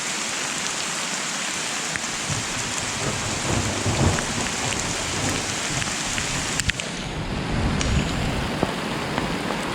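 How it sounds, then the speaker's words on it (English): Pea-sized hail mixed with some bigger chunks falls during a mountain thunderstorm, a loud, dense and steady pattering roar with scattered sharper hits and no talking. "It's about pea-sized hail, but there's some bigger chunks too."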